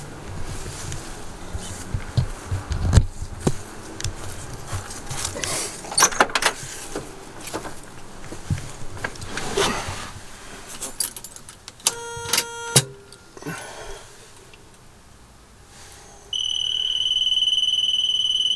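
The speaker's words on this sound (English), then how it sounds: "I'll show you what happens now when I turn the car on." A Chevrolet Nova with a fuel gauge fault starts up: clunks and mechanical noise, then a rapid repeating electronic chime, followed by a steady idle hum with a high warning tone near the end.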